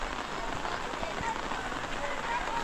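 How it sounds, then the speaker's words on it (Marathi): Heavy monsoon rain falls steadily outside a Marathi village school on Independence Day, a dense continuous hiss of downpour with no pauses, heard from under the veranda. "तर पाऊस खूप आहे"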